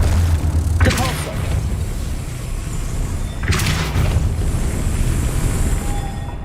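A Depulso spell is cast in the Hogwarts Legacy video game, two sharp whooshing blasts a few seconds apart over a steady background hum, with a player's voice speaking.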